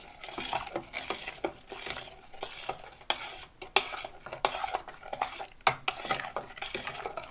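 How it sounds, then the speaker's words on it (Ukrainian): A spoon stirs a milk mixture for Napoleon cake in a pot with steady scraping and clinking against the sides, continuous and fairly quiet. "Додати залишки молока. теж гарно перемішати."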